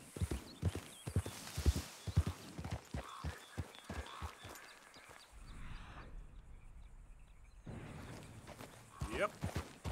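Horse hooves clip-clopping in the video game Red Dead Redemption 2, a quick rhythmic trot of close, distinct hoof strikes that pauses midway, then resumes faintly, with light ambient background.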